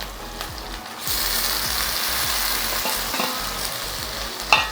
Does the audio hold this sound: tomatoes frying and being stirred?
yes